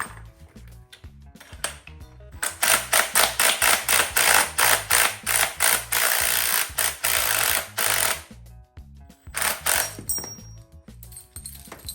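A bearing puller pops a bearing off a Club Car golf cart axle in a workshop: a loud burst of rapid, regular metallic clanks and rattles runs for several seconds, pauses, then resumes briefly.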